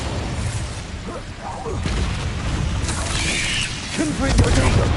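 A Bombarda blast spell goes off in Hogwarts Legacy, a loud booming burst with crackling debris over steady game ambience, amid a run of other spell effects.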